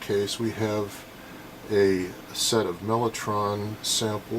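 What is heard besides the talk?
None of the usual background noises is heard.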